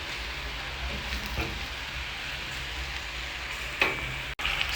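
Liver cooks in a pan with a beef stock cube, giving a steady, close sizzle and frying hiss with a brief stir-like clatter near the end and no speech.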